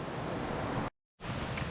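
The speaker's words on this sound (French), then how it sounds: "On sait que la rivière est là, on l'entend." A river in the Fataua valley on Tahiti rushes as a dense, steady broadband roar, close and loud, broken by a brief full dropout near the middle before resuming unchanged.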